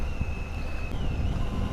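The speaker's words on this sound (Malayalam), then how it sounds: "നല്ല തണുത്ത കാറ്റ്" Cold morning wind rushes past a rider on a motorcycle, a steady, close buffeting roar with a thin whine running through it.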